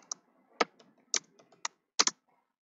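Scattered keystrokes on a computer keyboard while typing JavaScript code, about a dozen sharp, close clicks in irregular bursts with quiet gaps, no voice.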